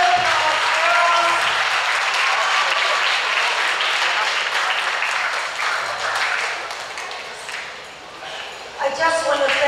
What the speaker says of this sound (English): Let's give her now another round of applause.